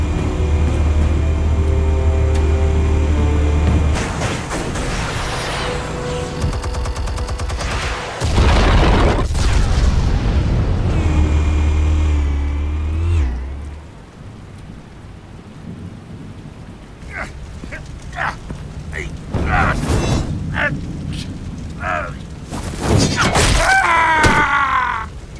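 Heavy booming detonations and rumbling blasts from explosives in a Batman video game, loud and echoing with a long rolling decay, followed by quieter crackling debris and scattered sharp bursts.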